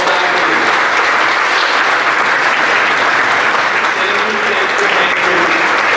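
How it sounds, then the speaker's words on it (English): An audience claps steadily for the Casa Vida board in a dense, loud, sustained round of applause that holds at an even level throughout without breaks. "Give some round of applause for this person."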